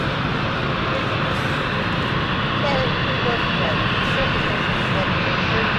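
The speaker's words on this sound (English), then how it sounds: "Just in time for our Florence flight to take off." A jet airliner takes off at London City Airport on a flight to Florence, its engine roar broad and steady throughout at close range, with people talking over it.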